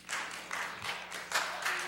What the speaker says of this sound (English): I don't think we should be clapping